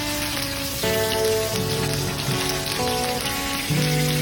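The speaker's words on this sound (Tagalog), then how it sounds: "i-half cook lang natin pagkaluto ang ating chicken na nakamarinate. Prito muna natin." Marinated chicken pieces frying in hot oil for a pork and chicken afritada, giving a steady, close crackling sizzle like rain on a surface, with faint tonal kitchen hum underneath and no talking.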